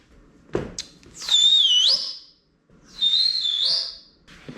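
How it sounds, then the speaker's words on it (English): A person whistles to call cats outdoors while washing a wrecked Jaguar S-Type R, giving two loud, sliding whistled notes about a second long each, separated by a short pause, with a faint thud before them. "I was just whistling the cats down there."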